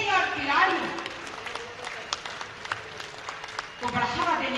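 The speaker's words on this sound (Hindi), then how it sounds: "तालियां एक बार जोरदार होनी चाहिए।" Audience applause at a Jharkhand government event marking the unveiling of the state's 2020 sports policy: a burst of clapping at the start, a thinner patter in the middle, then the clapping swells again at the end.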